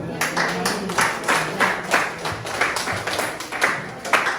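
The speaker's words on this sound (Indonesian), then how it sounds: "Terima kasih untuk kelompok 1. Kita beri aplaus dulu." A classroom of students claps for group 1 after a presentation, a lively, uneven burst of many hands close by with bright, rhythmic peaks.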